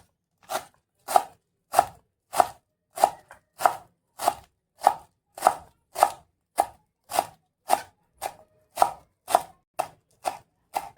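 Coriander leaves chopped finely with a knife on a board for aloo paratha, about eighteen crisp, evenly spaced knife strikes in a steady rhythm, close and clear with no talking.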